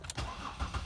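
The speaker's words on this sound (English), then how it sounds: "start it up, nice and smooth" A 2008 Ford Escape engine cranks and catches, then settles into a smooth idle after new spark plug coils, with a brief starter burst followed by a steady low rumble heard up close with no talk.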